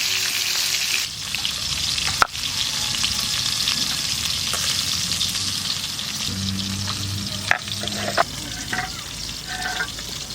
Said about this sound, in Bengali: অল্প অল্প করে ভাজবো, এখনই ছেড়ে গেল তেলে